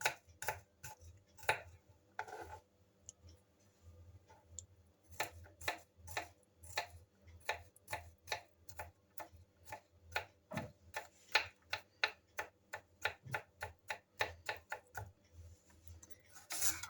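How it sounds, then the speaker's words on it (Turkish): A knife chops a small garlic clove and then carrots on a board for a vegetable soup, giving a steady run of sharp, close, distinct taps at a fairly regular pace with no talking. "Şöyle küçük bir diş sarımsak doğruyorum."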